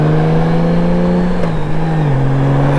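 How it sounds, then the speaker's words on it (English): Yamaha VMAX power cruiser with a 200-horsepower engine, a loud, close, steady engine drone that holds its pitch and then dips slightly, with no talk over it. "Yamaha VMAX power cruiser with 200 horsepower."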